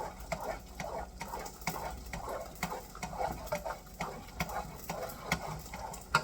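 Buldak spicy sauce is stirred, producing soft repeated scraping and wet swishing strokes in a steady rhythm, fairly quiet and close.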